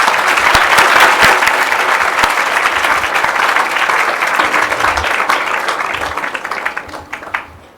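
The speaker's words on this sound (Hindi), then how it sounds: "ताली में कंजूसी नहीं करो, जोर से तालियां बजाओ।" Loud, sustained applause from an audience at a children's satsang gathering, dense continuous clapping that holds steady and then tapers off to a few scattered claps at the end.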